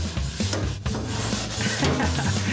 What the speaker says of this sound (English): the first thing we're gonna use is a wire grill brush like this